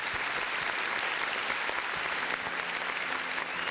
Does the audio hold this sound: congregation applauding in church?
yes